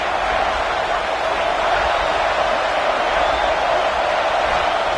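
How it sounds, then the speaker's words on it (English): Stadium crowd at a Nebraska vs Virginia college football game roaring steadily as the defense tries for a goal-line stop, a dense continuous wash of noise without breaks. "the crowd really making some noise now, trying to help out this defense to get this stop near the goal line"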